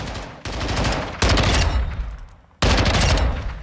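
Full-auto bursts from an M1A rifle in Call of Duty Modern Warfare II crack out in three loud, rapid strings of gunfire, separated by short breaks, with no voices.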